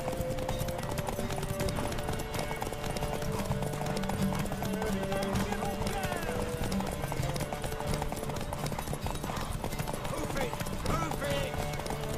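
Horse in The Witcher 3 galloping with a fast, rhythmic clip-clop of hooves throughout, steady and moderately loud, with voices talking over the hoofbeats.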